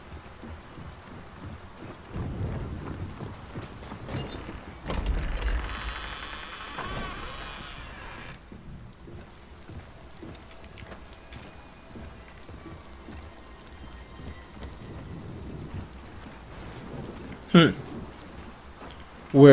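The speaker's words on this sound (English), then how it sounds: "Oh, it's still raining inside." In the video game Gears of War 4, steady rain patters throughout, with low thunder rumbling in the distance and a couple of sharper cracks near the end.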